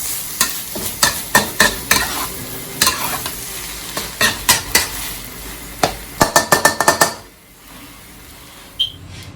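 Bopis fries in oil in a pan, a continuous sizzle punctuated by sharp, rapid clacks of a utensil stirring against the pan, a quick flurry near the end before it quiets.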